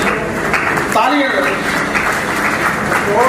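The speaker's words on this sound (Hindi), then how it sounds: "तालियां" An audience applauds at a turban-tying honour ceremony, steady clapping continuing throughout while a voice speaks over it.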